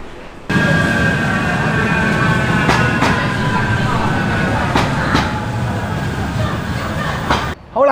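Manchester Metrolink tram at the Bury terminus, a steady rumbling rail vehicle with wheel clicks and mechanical hum lasting several seconds, heard fairly close.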